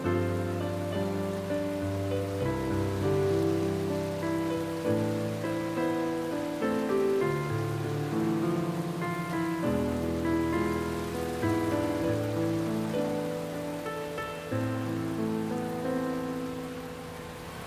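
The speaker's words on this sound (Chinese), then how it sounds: "下雨了。" Steady rain falls on surfaces outdoors, a dense continuous patter that stays even and moderately loud throughout, while soft background music plays beneath it and no one speaks.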